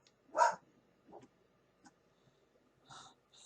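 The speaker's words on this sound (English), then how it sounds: "Sorry, that's my dog." A dog barks once, fairly close and sharp, followed by a few quieter huffs and a softer second bark after a pause, in an otherwise quiet indoor room.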